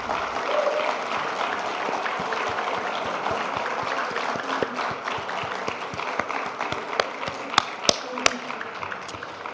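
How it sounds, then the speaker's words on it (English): A church congregation applauds, with dense steady clapping and several sharper individual claps standing out near the end, voices faintly mixed in underneath. "give Mrs. J a round of applause"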